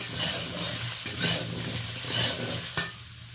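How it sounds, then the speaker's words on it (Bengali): Pointed gourd (potol) fries in a little oil in a wok with salt and turmeric, giving a steady close sizzle with soft stirring scrapes and one sharp clack near the end. "এবার আমি পটলগুলোকে ওই কড়াইতে কিছুটা পরিমাণ তেল রয়েছে, এতে পটলগুলো ভেজে নেব"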